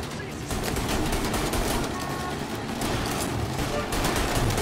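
Dense gunfire from a shootout in Mafia: Definitive Edition, a steady rattle of rapid shots running throughout with a voice talking over the battle.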